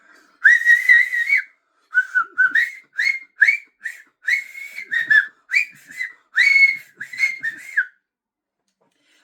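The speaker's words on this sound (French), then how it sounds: "Il a demandé à tout le monde de siffler." A crowd whistles along with a song at a Shabbat gathering, a series of clear melodic whistled phrases in short bursts with brief gaps, loud and close, ending in silence.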